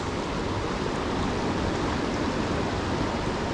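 The Tyenna River in Tasmania rushes steadily over its bed, a constant dense wash of flowing water, close and loud with no voices.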